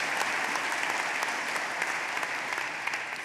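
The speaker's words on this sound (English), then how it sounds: "Please give yourself a round of applause." Party conference delegates of the Scottish National Party applaud in a large hall, a dense, continuous wash of clapping at steady loudness with no voices over it.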